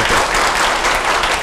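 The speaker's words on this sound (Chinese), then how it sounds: "让我们大家鼓掌欢迎他" An audience claps to welcome a lecturer at a talk on inflammation and disease, a brief, dense burst of applause from a full room, steady throughout with no voices over it.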